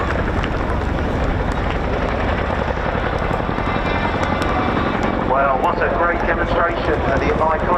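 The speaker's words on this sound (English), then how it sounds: "Demonstration of the iconic Royal Air Force Chinook by the Royal Demonstration Team." An RAF Chinook helicopter at an air show gives off a loud, continuous rotor and engine roar over the whole stretch, with a public-address voice talking over it and crowd noise around.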